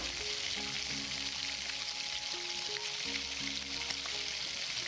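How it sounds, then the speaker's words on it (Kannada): Black pepper, fenugreek, cumin and coriander seeds fry in two tablespoons of hot oil, giving a steady, even sizzle with faint crackles and soft stirring. "ಮಸಾಲೆಗೆ ಎರಡು ಟೇಬಲ್ ಸ್ಪೂನಷ್ಟು ಎಣ್ಣೆಯನ್ನು ಬಿಸಿ ಮಾಡಿ ಕರಿಮೆಣಸು ಮೆಂತೆ ಜೀರಿಗೆ ಕೊತ್ತಂಬರಿ ಬೀಜ"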